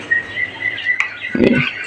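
Pet quail give high, thin chirps close by, a sustained tweeting call broken by a couple of short sharper notes, with no voices.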